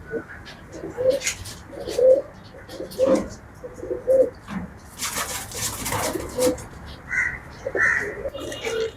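Racing pigeons coo repeatedly in soft, low, throaty phrases, close by, with a burst of other bird calls and noise partway through.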